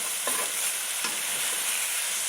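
Mexican lasagna filling with Worcestershire sauce sautés in a pan with a constant bright hiss and sizzle, plus two quick stirring clicks early on, fairly quiet and without talk.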